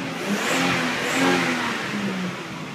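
Twin-cam turbocharged engine of a Nissan Skyline R31 Autech Edition revving steadily for a few seconds, a continuous mid-pitched drone that swells and eases, fairly loud and close with no talk over it.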